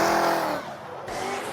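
High-horsepower drift cars, including a single-turbo V8 240SX, roar loudly with engines screaming and tires squealing at an event, the sound dipping briefly before surging again.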